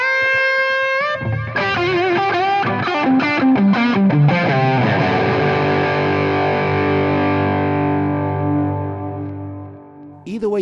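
An electric guitar played through a Keeley Mk3 Driver overdrive pedal in RK Germanium mode rings out loud and close, a run of quick distorted notes settling into a long sustained chord that slowly fades before a fresh pick attack.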